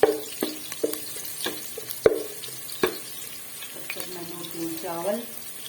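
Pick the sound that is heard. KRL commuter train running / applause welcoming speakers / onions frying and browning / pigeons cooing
onions frying and browning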